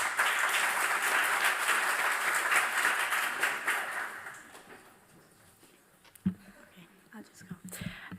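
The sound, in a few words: applause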